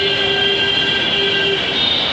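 A metro train on an elevated line above a station in Dhaka, a loud continuous rumble with high steady wheel squeal and whine, close and filling the whole stretch.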